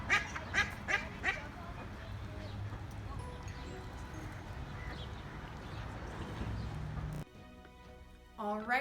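Ducks at an outdoor duck pond quack in a few sharp bursts at the start, then a steady mix of pond noise and crowd murmur follows, with more quacking returning at the very end.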